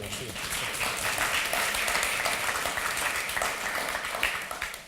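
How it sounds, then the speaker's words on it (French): Audience at a Microsoft technology conference applauding the speakers, a steady bed of clapping throughout with some voices beneath it. "je vous invite à les applaudir pour les encourager"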